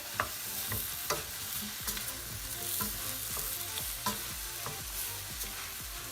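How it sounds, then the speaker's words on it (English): Cauliflower florets stir-fried in a pan for a mixed vegetable jalfrezi curry: a steady close sizzle broken by regular scraping knocks as a utensil stirs the pieces. "And then I'm going to add my cauliflower florets."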